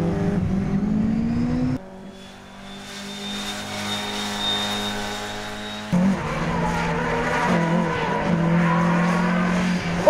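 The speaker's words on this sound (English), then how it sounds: "Awesome spin from the Escort" An Escort rally car spins and recovers on a stage of the Azimghur Stages Rally: a loud engine drops back, holds a steady drone, then surges again with revving and tyre noise, heard up close and without talk.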